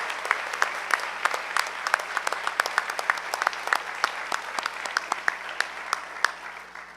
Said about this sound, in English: we could have another round of applause